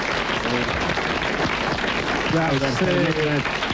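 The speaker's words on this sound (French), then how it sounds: "vous l'applaudissez très fort" An audience on a French radio comedy show applauds in a continuous wash of clapping, with voices sounding over it toward the end.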